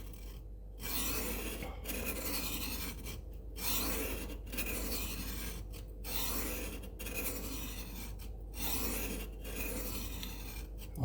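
A knife is drawn across a sharpening stone to knock down the bevel shoulder, producing repeated close rasping strokes in a steady rhythm of about a dozen passes, separated by brief pauses, with no talking.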